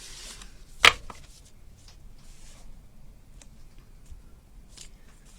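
A single sharp snip of scissors cutting a piece of paper while making a handmade memory book, heard once near the start, then quiet rustling and handling of paper follows.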